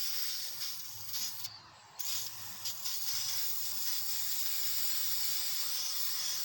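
A malfunctioning aerosol spray paint can hisses steadily by itself, close up and continuous, briefly wavering before the spray resumes with no voices present.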